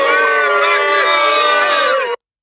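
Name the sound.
crowd booing in an animation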